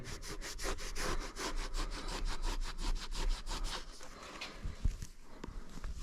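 Rhythmic back-and-forth scrubbing strokes on a Ford 460 cylinder head, a quick regular scraping cadence up close that slows and loosens toward the end.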